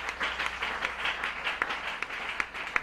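A church congregation applauds during a worship service, a steady wash of many hands clapping with a few sharper individual claps standing out near the end, continuous and fairly close.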